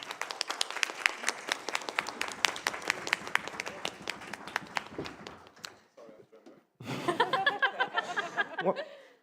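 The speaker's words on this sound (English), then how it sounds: "another great applause for Itali" Audience applause for the performer Itali at the EponaFest 2026 live event: dense, steady clapping for about five seconds that thins out, followed after a brief lull by voices and laughter.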